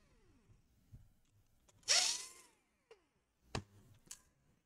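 A power screwdriver removes the screws from an ASUS Q552U laptop during disassembly, with one short whirring burst, then a few faint clicks and taps as the parts are handled.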